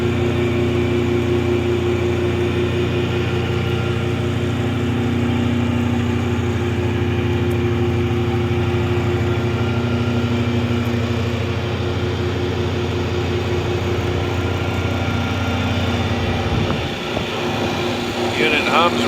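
A rebuilt Jacobson 60 D pulverizer hammer mill runs with a steady, loud, even mechanical hum and drone that holds level for the whole stretch, with only a slight dip near the end.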